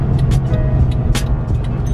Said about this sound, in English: It's a boat bus.